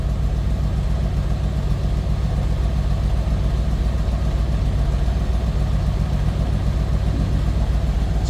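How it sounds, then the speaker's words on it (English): A 1968 Chevrolet Corvette convertible's small-block Chevy V8 idles from behind the car, a steady, deep, throaty exhaust burble with even low pulses and no talking. "It's a good sounding small block Chev. Just a nice little deep throaty exhaust note."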